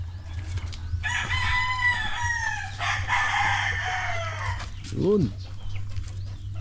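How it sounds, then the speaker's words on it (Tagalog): Chickens cluck and a rooster crows over a steady low hum at a backyard chicken farm in a subdivision, the calls layered at moderate distance, with a brief voice near the end. "Manukan na nandito sa subdivision."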